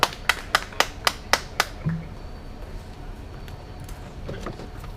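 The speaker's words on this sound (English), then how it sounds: "Let's give him a nice round of applause." A few sharp, evenly spaced claps ring out close by at an open mic night before a stand-up comedy set, then quickly fade into quiet room tone.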